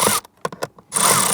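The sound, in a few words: power driver driving a screw while installing a blower motor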